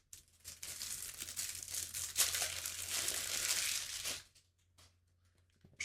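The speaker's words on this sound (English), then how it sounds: "just give those a shuffle and put them over to the side" Close, crinkly shuffling of Codenames Pictures cards on a tabletop, a busy rustle for about four seconds that ends abruptly, followed by a couple of faint taps.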